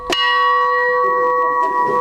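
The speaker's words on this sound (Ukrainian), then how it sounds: "Цей дзвін не один рік сповіщав про прибуття потягів на Єлисаветградському залізничному вокзалі" An old railway station bell, once used to announce arriving trains, is struck once with a sharp clang and then rings on in a long, bright, sustained tone that slowly fades.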